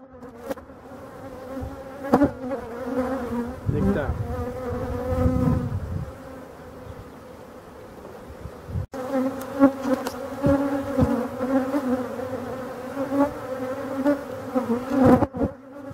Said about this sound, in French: Vous voyez les abeilles qui sortent là. qui montent et qui décollent.